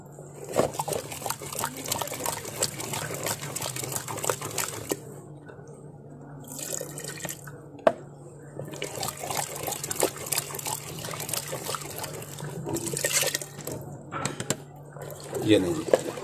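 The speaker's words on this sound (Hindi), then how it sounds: "ये आटे वाला पानी सारा इसमें शामिल कर दिया" Flour-and-water mix poured into a pot of village-style mustard greens saag and stirred in, giving close liquid trickling and wet mixing sounds with brief pauses and a voice at times in the background.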